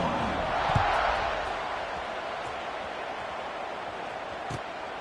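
A steady, broadband roar from a stadium crowd in the NCAA 25 college football video game, swelling slightly at the start and then holding level, broken by a couple of brief dull thuds.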